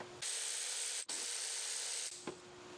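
Ratchet loosening engine bolts during an engine removal, a fast continuous clicking whir close by that runs for a couple of seconds, cuts off briefly, then resumes before stopping.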